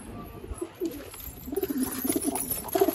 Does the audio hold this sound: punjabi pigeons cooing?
yes